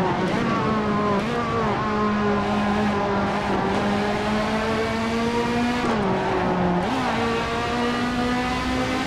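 Ferrari-styled P4/5 Competizione race car of about 450 horsepower screaming near full revs in Assetto Corsa at Mugello, a loud continuous high engine whine that holds steady, then dips and climbs briefly with shifts late on.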